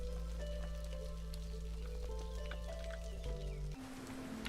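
Heavy rain in the video game Against the Storm, a constant hiss of downpour under steady tonal game music and ambience, continuous and even throughout.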